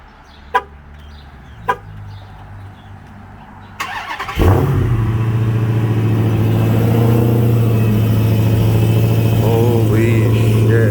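A Dodge Challenger SRT Hellcat on its stock exhaust makes a few clicks and a short crank, then fires up on a cold start into a loud, deep, steady idle that holds to the end.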